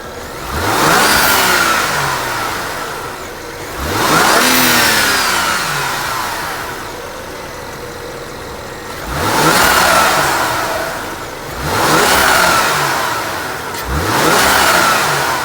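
BMW 535 with the N54 engine and an added blow off valve revs hard through four or five separate pulls, each rising and falling sweep ending before the next, loud and close with no talk.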